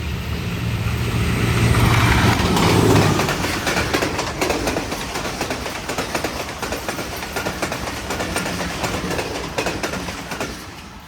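Awam Express, led by a ZC20 locomotive, roars through Sadoke railway station without stopping, a loud close rush of engine and wagons followed by steady clattering wheels on the rails that carries on for the whole stretch.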